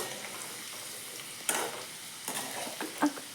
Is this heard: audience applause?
no